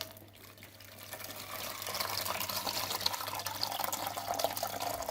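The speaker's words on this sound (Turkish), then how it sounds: "Temiz su gelene kadar akıtıyoruz buradan." Water runs steadily out of a radiator's drain point while the radiator is flushed during a cleaning job, a continuous splashing flow that starts quieter and grows fuller, close by, with no talking.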